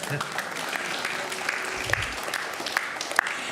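A room full of people at a school district board meeting applauds, a dense patter of clapping that carries on steadily for a few seconds.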